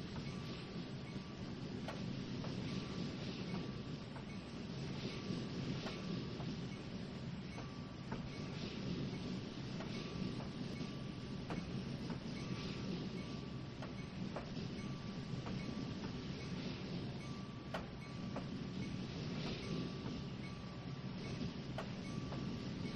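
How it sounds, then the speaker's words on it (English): A tanker train runs along the track in the Trainz 2019 rail simulator, a steady low rumble with faint rhythmic clicks from the rails that carries on evenly and alone. "that's the first tanker coming up here now"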